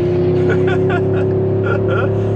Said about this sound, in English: This truck sounds real nice with that diesel.